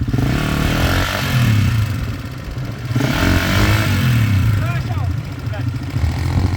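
A KTM 400 off-road motorcycle engine revs hard while riding, surging and dropping in pitch over several seconds. People talk loudly over the engine noise.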